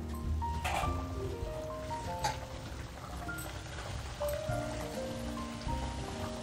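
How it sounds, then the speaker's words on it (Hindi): Mathri dough pieces fry in hot oil in a second batch, a steady bubbling crackle with scattered pops and soft clinks of utensils, close and moderately quiet with no talking. "चलिए अब इसी तरीके से हम दूसरा बैच भी फ्राई कर लेंगे।"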